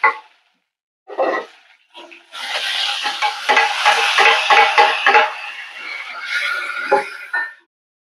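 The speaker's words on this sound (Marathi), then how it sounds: "तेल व्यवस्थित गरम झालेलं आहे. 1 टीस्पून मी घातलेले आहे जिरं, कांदा घातलेला आहे." Cumin seeds and chopped onion hit hot oil in a kadhai, giving a loud, steady crackling sizzle for several seconds after a few short clattering bursts at the start.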